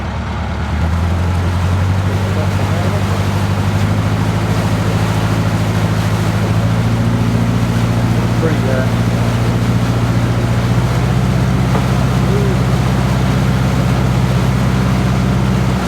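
A narrowboat diesel engine idles steadily after a cold start, a low continuous throbbing drone with a faint watery wash, close and unbroken with no talk.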